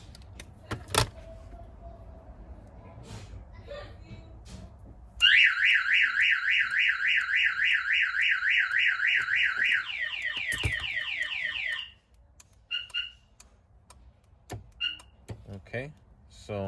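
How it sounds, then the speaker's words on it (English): A newly installed car alarm sounds: a door thuds and clicks, then a loud warbling siren starts, shifts to a faster chirping pattern, and stops into a few short beeps and clicks from the locks. "our alarm's working, door locks are working, door trigger's working."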